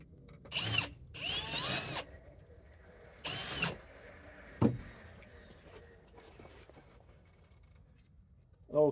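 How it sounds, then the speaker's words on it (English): Several short bursts of a power drill whining at high speed while drilling out a rivet in a van seat, separated by pauses with faint clinks and handling noises, close by. "Drilling out a rivet,"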